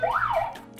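A single short siren wail on a TV game show rises and falls once, loud and clear, then fades.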